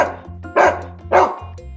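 A dog barks twice in quick succession, close and clear, with a low hum underneath and no talking.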